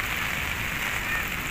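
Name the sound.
rain falling at a fishing spot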